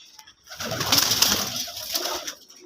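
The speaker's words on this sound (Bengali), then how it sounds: "এটা আমার একটা মাদি কবুতর" A pet female pigeon in a home loft coos close by in a short, breathy burst with a rustle of movement, starting abruptly after a brief quiet moment.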